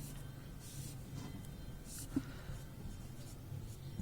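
A hand writes the word platinum with a pen, giving faint, scratchy strokes that barely rise above a steady background hum. One slightly sharper tap falls midway.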